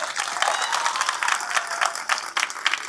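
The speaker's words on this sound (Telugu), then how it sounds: "గట్టిగా చప్పట్లు కొట్టాలి" A crowd at the unveiling of a Shivaji statue in Vennachedu village claps loudly and continuously, dense rapid applause close by with no voices over it.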